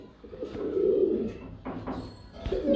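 Soft, low pigeon coos repeat in a steady murmur at a pigeon farm, fairly close, with a few brief rustles between them.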